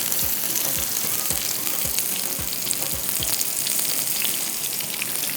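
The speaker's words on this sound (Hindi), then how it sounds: "मज़ीद और भी इसी तरह से फ्राई करते जा रहे हैं।" Shahi kebabs frying in a pan, giving a steady, close, loud sizzle with a bright spattering hiss throughout and soft low thumps repeating every half second or so.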